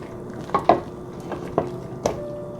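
A spoon stirs sweet and sour sauce over tofu in a pan, giving a few distinct clinks and wet scraping taps at irregular intervals, fairly close and quiet, with no talking.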